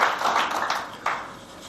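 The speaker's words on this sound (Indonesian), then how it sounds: "Tepuk tangan dulu buat Tuhan kita" A church congregation claps for God during a sermon, a brief burst of scattered hand claps that quickly fades, with a few sharper slaps standing out.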